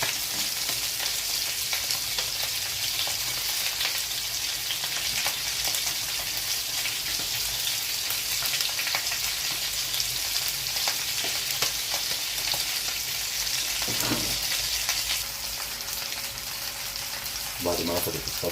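Duck pieces fry in a hot pan with butter or ghee, making a loud, continuous close sizzle and crackle that holds steady throughout, with brief stirring knocks near the end.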